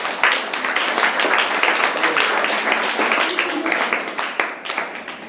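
An audience claps loudly and densely at a motivational talk, a steady, close wash of hand claps that lasts throughout and fades only slightly near the end.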